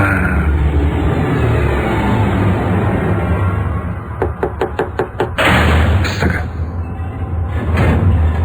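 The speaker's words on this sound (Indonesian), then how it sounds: "ada yang mengetuk pintuku" Someone knocks on a door with a quick run of about six sharp raps, loud and close, over a steady background hum, followed by a couple of heavier thuds.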